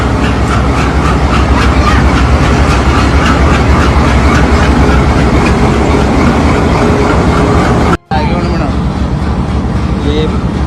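Pakistan Railways train in Lahore, its engine rumbling loud and steady at close range with broadband rail noise, briefly cut off near the end, with people talking over it.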